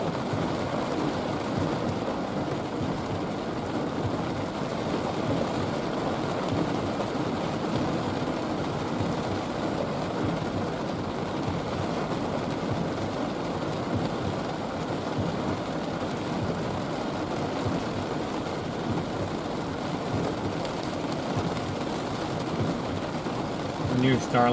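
Steady rain falls through a storm in central Texas, a constant soft hiss with low rumbling underneath, even and unbroken throughout with no distinct drops standing out.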